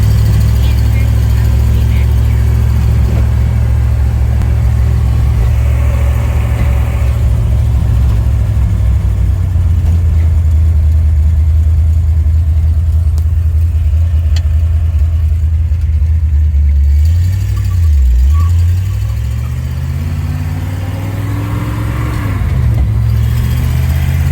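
A 1970 Ford Mustang Fastback engine runs loud and close with a deep steady rumble, then revs up and settles back down toward the end.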